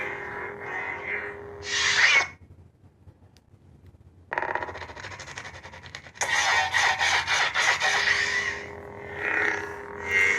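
HLSABER Sandman Fist Neopixel lightsaber doing a stacked ignition, with crackling buzzy bursts and swells of electronic hum separated by short pauses, close and moderately loud.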